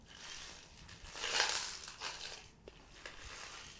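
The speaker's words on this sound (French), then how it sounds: "bouteilles de lait customisées et avec des graines à l'intérieur" Seeds rattle and swish inside a plastic milk bottle being shaken, a soft continuous shaker sound that swells and fades without any talking.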